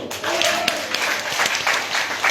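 An audience at a success seminar claps for themselves, a brief burst of scattered hand claps that starts quickly and stays moderately loud to the end. A voice briefly sounds over the clapping.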